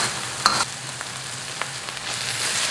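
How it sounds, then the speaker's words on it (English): Lemongrass frying in sambal paste in a wok, a steady close sizzle with a few soft clinks and stirring taps scattered through it, no voices. "Now I'm going to cook this lemongrass for about 2 minutes in this sambal paste"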